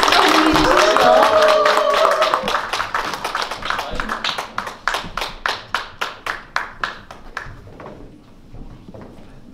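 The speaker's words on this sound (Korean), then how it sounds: "큰 박수 환영해 주십시오" A concert audience gives a full round of applause welcoming a tenor onto the stage at a year-end music hall concert; dense clapping thins into scattered individual claps and fades out.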